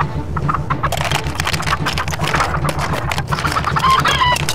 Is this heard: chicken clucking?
yes